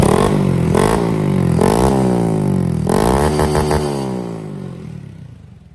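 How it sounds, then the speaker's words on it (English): A 2022 Honda Grom motorcycle with a loud aftermarket replica Yoshimura exhaust revs up several times in quick bursts, rising and falling close by, then idles down and fades. "Got my fake China Yoshi exhaust"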